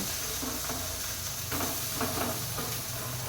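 Sabudana vada, sago and potato fritters for a fasting snack, sizzling steadily in hot oil after being flipped, a close continuous frying hiss with faint stirring scrapes and no talk.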